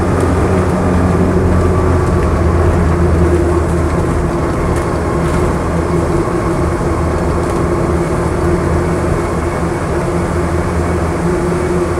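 A 1973 Land Rover Series III 88in drives along the road, its steady drivetrain and road drone continuous and fairly loud from inside the cabin, with no talking over it.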